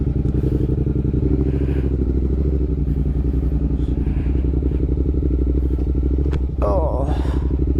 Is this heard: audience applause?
no